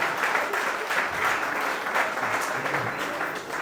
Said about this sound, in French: Acclamez tout simplement, et puis je vais vous dire pourquoi.